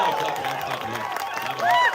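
A graduation commencement crowd claps and cheers together, with dense applause under overlapping shouts and voices, and a louder whoop rising near the end.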